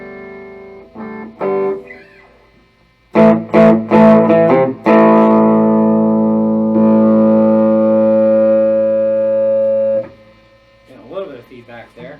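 An Epiphone Casino electric guitar through overdrive plays a few short chopped chords, then a loud sustained ringing chord that holds for several seconds before cutting off, followed by light scratchy strums.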